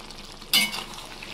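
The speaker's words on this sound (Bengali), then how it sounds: "একটু নেড়ে দেবো।" A spoon stirs methi chicken with kasuri methi in a frying pan, giving a single brief scrape and sizzle burst that fades into a soft, steady hiss.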